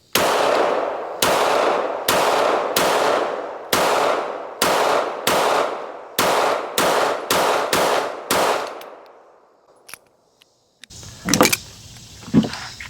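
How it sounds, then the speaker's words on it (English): A S&W Bodyguard 2.0 Carry Comp pistol fires a full magazine, about twelve loud sharp shots at a steady, slightly quickening pace, followed by a pause and then metallic handling clatter. "I'm going to shoot one more magazine through each one of these"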